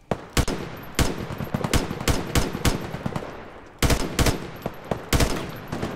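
Rapid automatic gunfire in a Roblox first-person shooter, loud close bursts of rattling shots with short pauses between volleys, no talk over it.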